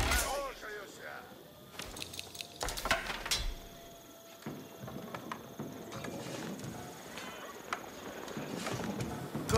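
Horse hooves clip-clop among battle sounds in Age of Empires 4, with scattered impacts and clicks while game voices speak over the steady hoofbeats.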